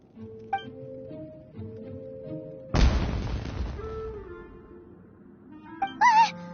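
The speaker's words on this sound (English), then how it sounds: "Was that an explosion? It sounded like fireworks." A single loud firework-like explosion bursts in a Genshin Impact scene, a sharp broadband boom that decays over a couple of seconds amid game music, followed by brief higher chiming sounds near the end.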